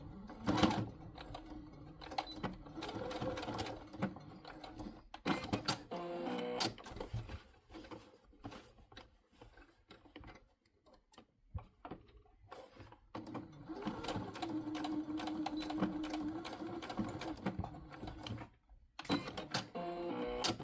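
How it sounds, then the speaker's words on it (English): A domestic sewing machine runs a quick stitch along each side of a folded fabric piece in a beginner craft, its mechanical whirring coming in several bursts with brief pauses between them, at moderate level with no talking. "we're going to go back to our sewing machine, opening this apart, and we're going to stitch"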